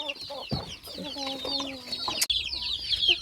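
Chickens on a poultry farm cluck and chatter nearby, including a brooding hen, with soft repeated clucks and a brief tonal call amid busy background bird chirping and a faint voice.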